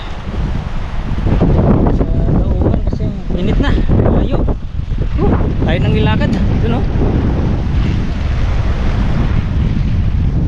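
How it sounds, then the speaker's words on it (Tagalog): Strong wind roars and buffets the microphone nonstop while people talk over it outdoors. "Lakas pa ng hangin"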